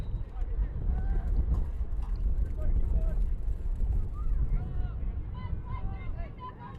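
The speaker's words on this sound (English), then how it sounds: "The wind sounds like a hurricane." Strong wind at an outdoor boys' lacrosse game roars and buffets the microphone with a heavy, constant low rumble, while voices talk over it throughout.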